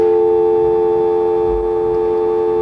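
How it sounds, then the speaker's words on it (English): A continuous, loud telephone dial tone hums steadily with no breaks, clear and close, with no one speaking. "let me hear the dial tone"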